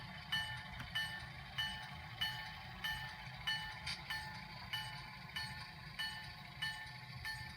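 A small model railroad crossing bell dings in a steady, even rhythm, about twice per second, over a low rumbling background hum.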